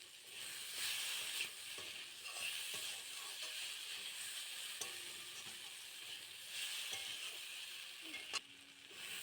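Food fries in a pan at lunchtime, a steady soft sizzle and hiss that runs throughout with occasional stirring clinks and scrapes, heard alone without talk.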